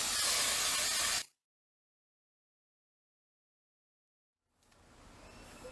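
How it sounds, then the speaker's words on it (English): Hairspray sprays in one steady, fairly loud hiss for about a second during a faux ponytail styling session with braiding hair, then cuts off abruptly into silence before faint room noise returns. "Then I take my soft brush with a little bit of hairspray."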